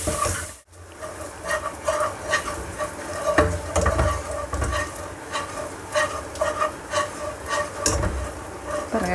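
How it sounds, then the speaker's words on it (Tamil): Ginger garlic paste is sizzling in melted butter and being stirred for a restaurant-style yellow gravy, with a steady frying hiss and repeated scrapes and clinks of a spoon against the pan. "1/2 டேபிள் ஸ்பூன் அளவுக்கு ஜிஞ்சர் கார்லிக் பேஸ்ட் போடுறோம்."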